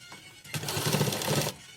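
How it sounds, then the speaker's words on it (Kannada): A sewing machine runs a steady stitching burst of about one second on fabric for puff sleeves, close and alone, with a brief start and stop at either end. "ಈ ಥರ ಸ್ಟಿಚ್ ಮಾಡ್ಕೊರಿ"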